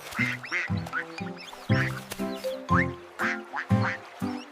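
Repeated nasal duck quacks come close and fairly loud in quick, uneven bursts over about four seconds within a children's song setting, with no talk.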